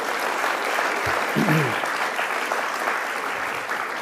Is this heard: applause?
yes